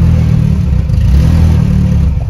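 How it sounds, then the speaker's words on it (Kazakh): A car that has trouble starting catches and fires up close by, its engine settling into a loud, steady rumbling idle with slight clatter throughout. "Көлік оталып кетті."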